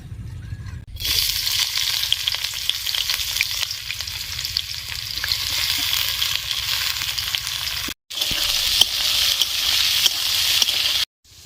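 Chicken sautéing with onion and tomato in oil, a loud, continuous frying hiss with faint stirring scrapes, cut by two brief silences.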